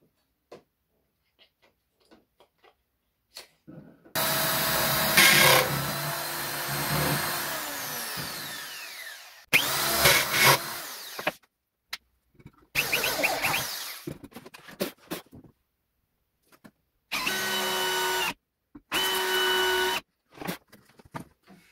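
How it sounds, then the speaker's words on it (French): A power drill boring holes into a wooden frame for a mobile BBQ cart workbench, several loud bursts of whirring of varying length separated by pauses with faint clicks and handling noises. "je vais percer les cadres à une distance de 165 du bord et de 110 du bord."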